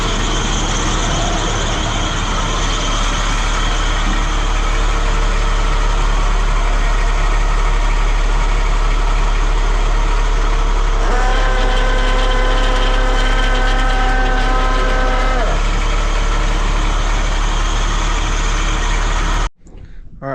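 Dump truck engine running as the dump bed is raised on a hydraulic system with a leak: a loud, steady diesel rumble with a rising whine of layered tones partway through, then an abrupt cutoff at the end.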